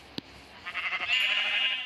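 A goat gives a single drawn-out, wavering bleat close by, just after a brief click.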